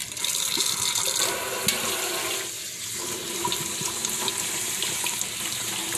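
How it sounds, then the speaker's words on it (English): A kitchen tap runs with a steady, close gush of water into a sink, continuous for the whole stretch with no talking over it. "And turn the water on."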